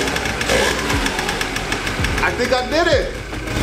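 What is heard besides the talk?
Yamaha Razz scooter engine running without the choke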